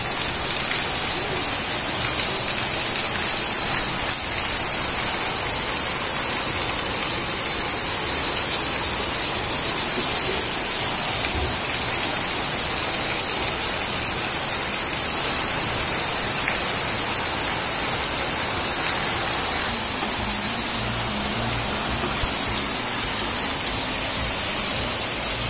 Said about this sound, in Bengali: তারপরে শুরু হলো ঝুপঝুপিয়ে অনেক বৃষ্টি।